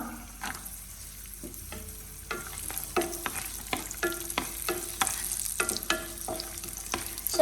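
Raisins stirred into pasta frying in a pan, a soft sizzle running underneath while a spoon scrapes and clicks against the pan in uneven strokes, close by and with no voices.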